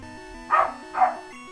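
A dog barks twice, loud and fairly close, over a steady stepped chiptune melody from a handheld Pokémon game, with a short pause between the two barks.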